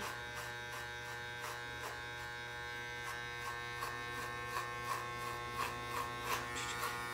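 Electric hair clippers buzz steadily and close while cutting a boy's hair, with a constant hum and a regular pattern of strokes as they pass through the hair.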